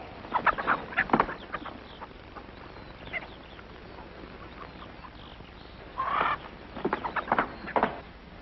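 Hens clucking in short bursts, a few isolated calls then a denser run of clucks near the end, fairly close with quiet background between.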